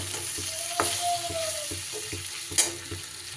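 Spice masala with capsicum stirred in a hot pan, a soft steady sizzle with spaced utensil knocks and scrapes against the pan, close and alone.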